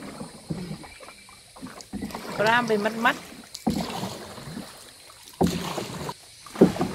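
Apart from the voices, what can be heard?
man paddling a rowing boat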